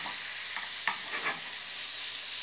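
Tomatoes frying with fried potatoes and vegetables in a pan, a steady sizzle with a few scraping stirs of a utensil near the middle.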